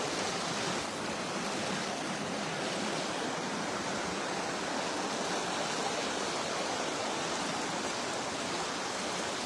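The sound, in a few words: floodwater rushing across a washed-out road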